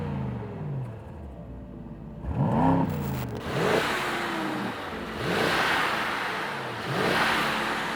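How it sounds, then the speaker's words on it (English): Mercedes-Maybach SL 680 Monogram Series, noise-optimized with extra insulation, running in sport mode: a muted engine and exhaust drone that swells through several revving rises and falls, moderately distant and with no voices. "this is what it sounds like in sport"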